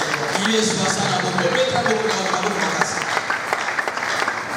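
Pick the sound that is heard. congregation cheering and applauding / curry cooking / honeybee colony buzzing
congregation cheering and applauding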